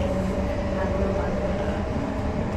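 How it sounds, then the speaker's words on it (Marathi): A Nerul commuter train pulls away and runs along the track, giving a steady, loud rumble with a faint sustained whine and no distinct pauses. "ट्रेन सुटले."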